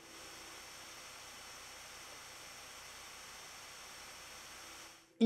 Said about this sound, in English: The last thing that I want to test for the XDO Pantera PicoPC is the fan noise.